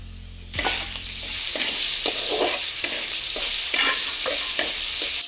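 Spoon stirring chickpeas and vegetables in a hot pan after a tempering of mustard seeds and turmeric: a steady close sizzle with repeated scraping strokes roughly every half second, no talking.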